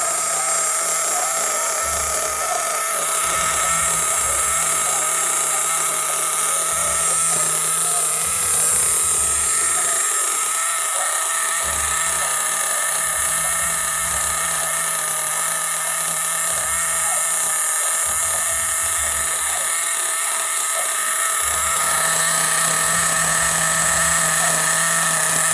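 A nitro-powered Losi 8T RC truggy engine runs continuously for the whole stretch, a loud high-pitched buzzing whine that holds fairly steady with slight rises and dips in revs.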